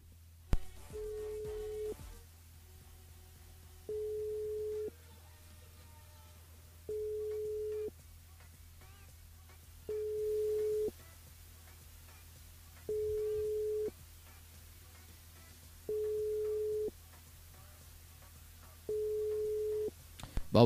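Unanswered telephone call on a live radio show line: seven evenly spaced busy-signal tones repeat every few seconds, clear and moderately loud over a quiet background hum.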